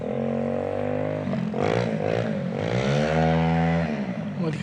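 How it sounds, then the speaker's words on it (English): A motorbike in the distance on the Solway Coast repeatedly revs up and eases off, its engine pitch rising and falling over a few seconds. "you can probably hear that there's a motorbike that's been pissing about for the past half hour"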